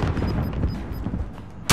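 A single-fire gun shoots in Call of Duty: Modern Warfare amid continuous rumbling battle noise, ending in a sharp, loud shot.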